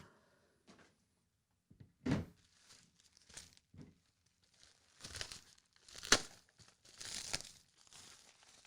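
A thick bubble mailer holding sports cards is torn open and crinkled by hand, with several separate rips and crumpling bursts between quiet pauses, close and fairly soft.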